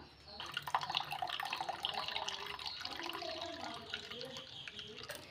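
Vegetables are washed in water, with soft splashing, sloshing and dripping close by at a fairly low level for a few seconds.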